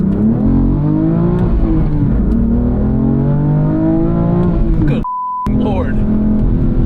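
A 2017 BMW M3 F80 accelerating hard, its engine rising in pitch in loud, close revving pulls with a short break at a shift. A person talks over the engine and a brief electronic beep cuts in near the end.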